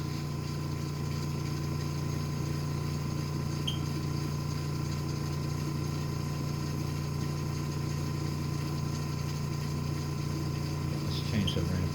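Cee 200XD spin coater running at around 1,000 RPM, a steady mechanical hum and whir with a continuous low drone and faint rattling, holding an even level throughout.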